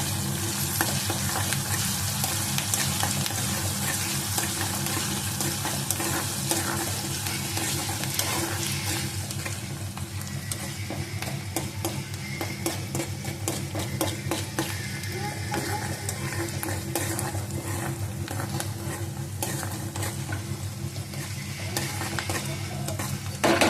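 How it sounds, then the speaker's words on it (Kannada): Food fries in a pan with salt and spices mixed in, giving a steady, close sizzle with stirring and scraping clatter throughout, no voices. "ಅದಾದಮೇಲೆ ಸ್ವಲ್ಪ ಫ್ರೈ ಮಾಡ್ತೀನಿ ನೋಡ್ರಿ."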